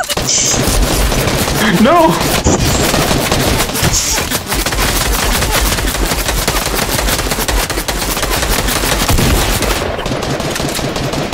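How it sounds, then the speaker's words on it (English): Rapid gunfire in the video game Fortnite, loud bursts of shots in dense succession throughout, with a brief shouting voice early on. "Why are you shooting at me?"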